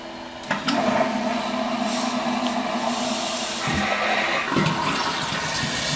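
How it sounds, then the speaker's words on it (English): A Toto Neorest 500 toilet flushing: a sudden rush of water that swirls and gurgles steadily for several seconds, close and fairly loud, with no talking. "and then we'll flush it one more time."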